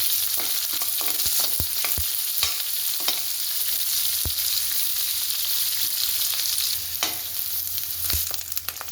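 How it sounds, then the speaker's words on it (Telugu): Onions, green chilies and curry leaves frying in oil in a pan for an aloo fry, a loud steady sizzle with intermittent scraping stirs and clinks of a spoon. "దాంట్లో ముందుగా కట్ చేసి పెట్టుకున్న ఆనియన్స్ పచ్చిమిర్చి కరివేపాకు వేసి బాగా ఫ్రై చేసుకోవాలి"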